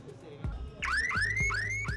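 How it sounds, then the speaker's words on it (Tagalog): A car alarm blares loud and close, repeating a rising, warbling siren tone in quick cycles that start after a brief low thump. "One of the most effective security for the vehicle is the car alarm."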